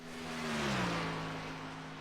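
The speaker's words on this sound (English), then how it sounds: "Blake Koschchild can't control that race car through the box here." A Cup Series race car at Michigan International Raceway sweeps past with a smooth engine whine that rises and then drops in pitch, moderately loud and alone.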